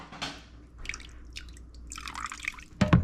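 Water splashes and drips into a bowl of eggs being readied for scrambling, a few close, light liquid trickles and spatters ending with a louder bump.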